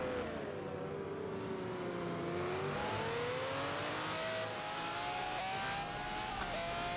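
GT1 race cars lapping Spa-Francorchamps in a racing video game, engines droning loud and steady with rising pitch sweeps as they accelerate close together, no talking.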